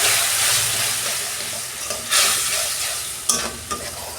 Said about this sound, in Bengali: অল্প জল দিচ্ছি আমি